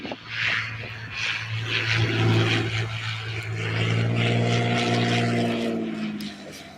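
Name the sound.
Columbia 400 or Cessna light aircraft arriving at Oshkosh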